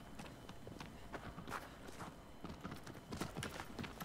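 Rapid clip-clop of a horse's hooves galloping in Shadow of the Colossus, in a quick, uneven rhythm, fairly close, continuing throughout.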